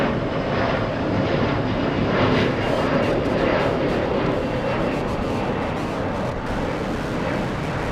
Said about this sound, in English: This is, Horizon Air flying to Las Vegas, Nevada.